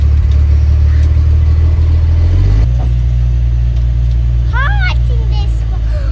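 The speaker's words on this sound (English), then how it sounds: "let's fire it up, see if it starts the right of ways again" A rusty Toyota FJ40 engine idling loudly and close, a deep steady rumble that shifts in pitch partway through, with voices talking over it.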